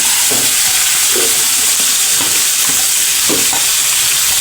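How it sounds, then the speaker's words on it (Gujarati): Mung beans tipped into a loud sizzling tempering of oil and curry leaves, a dense continuous hiss with a few stirring scrapes and clinks, no talking. "મીઠા લીમડાનું પાન, આપણે મગ નાખી દઈશું."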